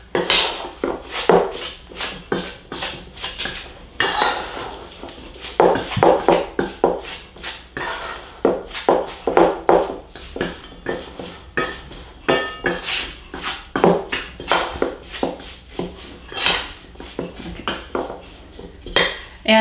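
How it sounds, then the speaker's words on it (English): Salmon cake mixture with pepper and parsley being stirred in a bowl, a steady series of sharp utensil clinks and taps against the bowl, close and fairly loud, repeating for about twenty seconds. "Then we'll mix that up one more time to incorporate all the ingredients."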